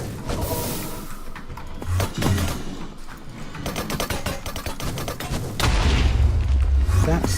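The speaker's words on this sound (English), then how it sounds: "Stop shooting at me." Enemies fire at the player in Minecraft, with repeated booming shots and rapid mechanical bursts arriving in uneven volleys, loud and close, mixed with game effects.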